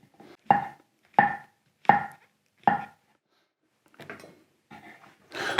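A kitchen knife chops mushrooms on a cutting board for roasting soup: four evenly spaced firm chops, then a pause and a few softer, scrappier cuts, close and clear with no talking.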